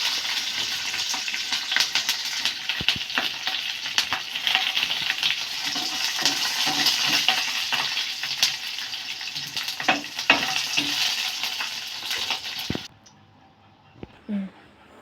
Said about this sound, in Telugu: ప్యాన్లో ఆయిల్ వేసుకొని పచ్చిమిరపకాయలు లైట్గా వేయించుకోవాలి